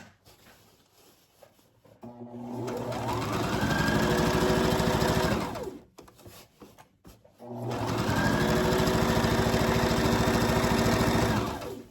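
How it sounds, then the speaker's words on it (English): A sewing machine stitches an envelope pillow cover in two long, steady runs of rapid mechanical whirring, close and loud, separated by a short pause with light handling noise. "And I'm going to sew all the way down again."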